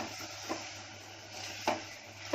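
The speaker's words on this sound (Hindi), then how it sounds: "मसाले को झींगे के साथ अच्छे से 2 मिनट भूनी।" Masala and prawns fry in a pan with a faint, steady sizzle under a low hum, broken by three short scrapes of a stirring spoon.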